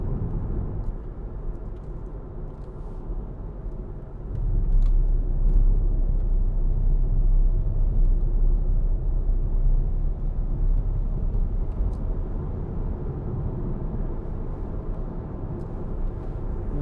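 Cabin of a 2013 Hyundai ix35 2.0 CRDi 16v diesel 4WD as it accelerates: a steady low engine and road rumble grows louder at about four seconds and stays heavy, with no talking.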